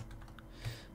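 Computer keyboard typing, a short run of soft, close keystroke clicks at an uneven pace, heard alone.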